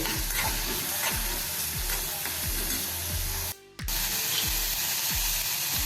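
Onion, capsicum and carrot are sautéed in a pan. Under a loud steady sizzle, a spatula scrapes in regular rhythmic strokes, with a short break partway through.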